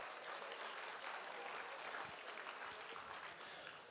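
Applause for donors at a charity auction fundraiser fills the room, a steady dense wash of clapping throughout, fairly faint and distant with no talk over it.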